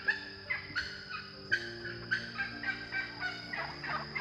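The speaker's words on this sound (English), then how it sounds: "The turkeys are crazy today." Turkeys gobble repeatedly in bursts, a loud, close flock calling over and over with rapid warbling rattles.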